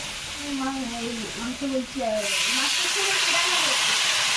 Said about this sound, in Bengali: টমেটোটা এর মধ্যে দিয়ে দিলাম আর ওলটা ভাজা হয়ে গেছে এবার জল দিয়ে দেবো